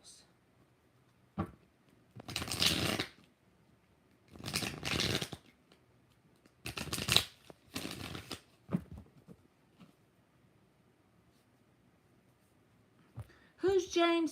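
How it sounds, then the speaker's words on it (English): Tarot cards shuffled by hand in four or five short, crisp bursts up close, separated by near-silent gaps, with a brief voice at the end. "Two more shuffles."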